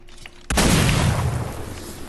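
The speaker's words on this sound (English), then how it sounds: "it's a firework launcher now" A firework launcher in Fortnite fires: one sudden loud boom that blasts in after a brief quiet moment and rumbles on with a long crackling tail.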